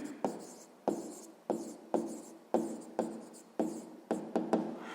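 A pen scratches across paper while a math answer is written out, with short repeated strokes in an uneven rhythm, each one sharp at the start and then fading, close and fairly quiet.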